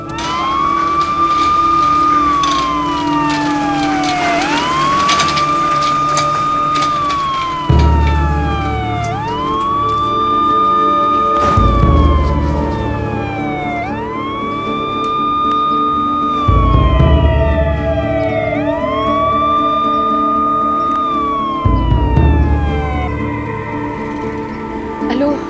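A police car siren wails outside a house in a loud, repeating cycle of rising and falling sweeps, steady and prominent for the whole stretch over a low background rumble.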